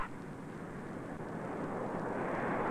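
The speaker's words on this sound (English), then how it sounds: "The captain pushes the throttle, and the big jet starts off." A 1960 four-engine jet airliner begins its takeoff roll, a broad, steady roar of engines building gradually in loudness, heard from inside the cabin with no talk.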